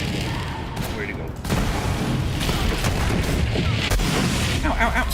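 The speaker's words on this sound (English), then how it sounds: "Gunfire and screaming." Gunfire in the shooter game Borderlands 3, several rapid bursts and booms layered over dense battle noise, loud and continuous with a sharper volley partway through.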